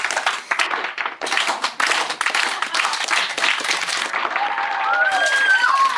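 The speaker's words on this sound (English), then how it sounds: "A round of applause. Guys. Slow clap." A group breaks into applause with scattered, uneven claps that build into steadier clapping, close and fairly loud, with a brief whistling tone near the end.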